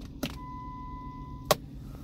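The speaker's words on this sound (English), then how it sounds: "when I pull this four-wheel drive low lever" A four-wheel drive low lever being pulled inside a Jeep Commander gives a sharp mechanical clunk, then a steady electronic warning tone that holds for over a second before a second clunk cuts it off, all in a quiet cabin.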